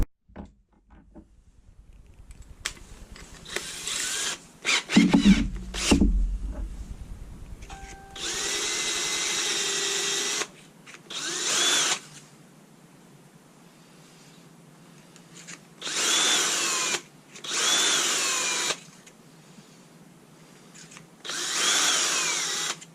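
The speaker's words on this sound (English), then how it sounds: "whack it on the lathe and turn it" Lathe spinning a milliput pen blank, with short bursts of whirring motor and scraping cuts separated by pauses, and a brief low thump near the start; moderately quiet and close, no talking.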